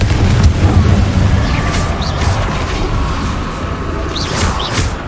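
Fiery Confringo blast spells in Hogwarts Legacy go off amid combat against Inferi: a steady low booming roar with repeated bursts and crackles running throughout, loud and close, with no talk.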